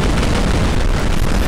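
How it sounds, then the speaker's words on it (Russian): Small bomb blowing up in the video game Garry's Mod, a loud dense burst of broadband noise that roars on for the whole moment without a clear decay, with no talk over it. "Давайте я им бомбу сброшу маленькую."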